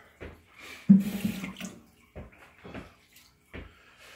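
Water runs from a kitchen tap in short, uneven splashing bursts close by, with quiet gaps in between.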